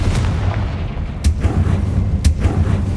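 Bombarda and Confringo spells burst in Hogwarts Legacy, with heavy booming explosions: one early blast, then two sharp, loud detonations about a second apart over a rumbling game backdrop.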